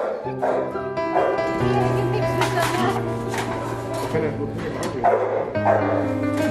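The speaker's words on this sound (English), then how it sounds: "yes, you're a big hound dog" A large hound dog barks and yips in repeated bursts close by, mixed with a steady tonal hum and background voices talking over it.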